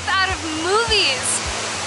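A waterfall rushes down a creek in a steady, close broadband roar that never lets up, while people talk excitedly over it.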